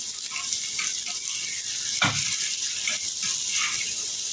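Prawns fry in hot oil with turmeric and salt, a continuous close sizzle with a soft stirring scrape and one brief louder burst partway through.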